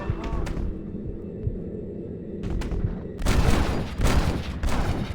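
Gunfire in the video game Red Dead Redemption, a burst of loud rapid shots with booming rumble, heavier in the second half, while a player talks over it.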